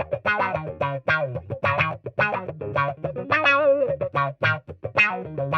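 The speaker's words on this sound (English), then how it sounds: "Next, we've got a T-wah on the effect." Electric guitar phrases through a BOSS Katana MK2 amplifier's T-wah effect, a sweeping wah filter making the tone bend and sound vowel-like, played clean and close with no talking.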